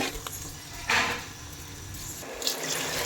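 Water is poured into a pot with seasoned rice for mushroom biryani, a moderately loud splashing gush that comes in short bursts, with faint clinks of cookware and no talk.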